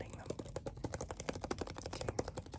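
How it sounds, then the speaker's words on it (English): Quiet, close tapping and handling on a box in a calm ASMR setting, with a steady run of soft, crisp clicks and taps in an irregular rhythm. "So first, I just want you to focus on the sounds of this box."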